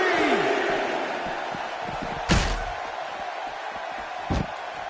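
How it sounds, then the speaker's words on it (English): WWE SmackDown arena crowd in a wrestling video game, a steady roar of distant cheering under a commentator's voice, with two sharp slams in the ring. "Another electric crowd on hand here for SmackDown"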